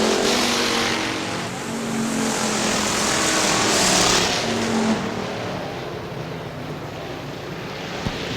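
Factory stock race cars circle Hartford Speedway Park in Michigan during a heat race, a broad roar of engines rising and fading as the pack passes, with wind-like rush over it and no speech.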